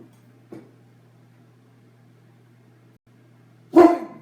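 Dougie, a pet dog, gives a single short bark-like burst near the end of an otherwise quiet stretch, preceded by one faint soft sound.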